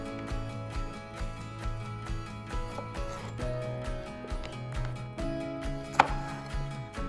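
Knife chopping cherry tomatoes on a large cutting board: steady rhythmic taps against the board, close and moderately quiet, with a sharper knock near the end and a faint tonal hum underneath.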